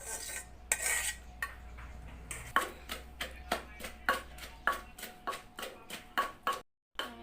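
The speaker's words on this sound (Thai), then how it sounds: "ตำพริก" Repeated sharp pounding strikes of chilies in a mortar, roughly steady in rhythm, close by, each a brief crisp knock with a slight ringing clatter, with no voices.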